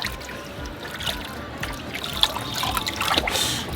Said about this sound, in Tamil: முதல்ல சும்மா வெறும் தண்ணியிலேயே குளிக்கட்டும்